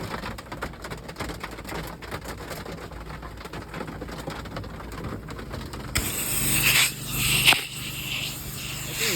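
Steady rain patters and hisses throughout, with a brief louder splash of water near the end; no voices.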